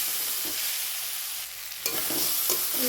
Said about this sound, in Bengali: এইভাবে আমি ভালোভাবে এগুলোকে ভেজে নেব।